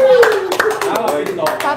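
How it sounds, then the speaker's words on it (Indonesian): A few people clap sharply and sparsely in an indoor gathering, individual hand claps clearly separated, heard close under overlapping talking voices. "Tepuk tangan dulu"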